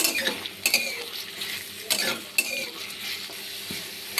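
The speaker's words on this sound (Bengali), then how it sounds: "এবার সব কিছুকে ভালো করে ভেজে নিব।" Onion, green chili and garlic fry together in a pan, with a soft sizzle under uneven spatula scrapes and sharp clicks against the metal, up close and without talk.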